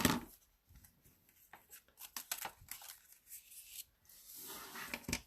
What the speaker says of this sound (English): we'll trim the excess off the edges here